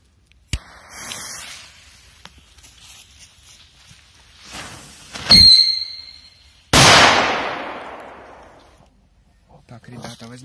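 Two sharp bangs sound about a second and a half apart, the second a loud K-33 Shark firecracker blast with a lingering echo, after scattered clatter and faint voices.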